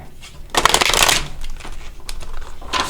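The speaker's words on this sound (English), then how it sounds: "I'm going to give it one shuffle for good measure." A deck of tarot-style reading cards is shuffled once in a quiet house, a quick riffle burst of crisp flapping and clicking followed by a few softer card taps and slides, close and distinct.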